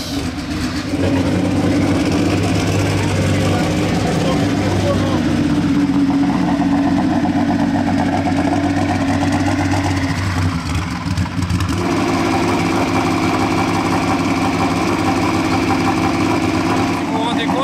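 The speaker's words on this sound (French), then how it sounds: "Oh, le bruit de dragster." A loud race car engine with a dragster-like character roars at Rétromobile 2023, a dense, sustained drone with a steady low rumble that shifts pitch partway through, filling the hall.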